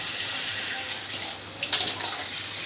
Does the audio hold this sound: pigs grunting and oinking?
no